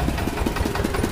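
A sugarcane crushing machine runs at a city roadside juice stall, giving a steady, close mechanical engine drone with a regular pulsing churn and no voices over it.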